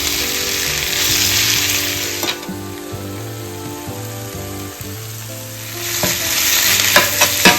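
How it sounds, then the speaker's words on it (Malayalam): Onions fry with ginger, garlic, green chillies and spices in a pan while being stirred, a loud crackling sizzle with scraping stir strokes, steady throughout and briefly rising near the end, with a faint musical tone beneath. "നമുക്ക് എപ്പോഴും ഇങ്ങനെ ഇളക്കിക്കൊണ്ടിരിക്കാം."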